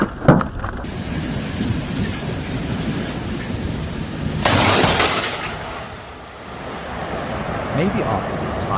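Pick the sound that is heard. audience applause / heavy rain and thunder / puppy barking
heavy rain and thunder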